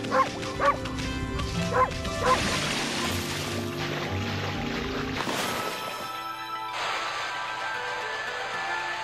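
A dog barking in the video game Okami HD: several short, close barks and yips in quick succession at the start, followed by game music and ambient sound.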